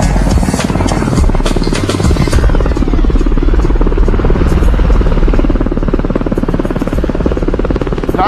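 An Air Force rescue helicopter drones steadily and loudly throughout, its rotor thump and engine roar constant from start to finish with no pause.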